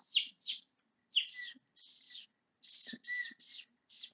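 A person whistles an imitation of a bird call: short, high chirping phrases with quick downward slides, repeated in a broken rhythm and fairly quiet.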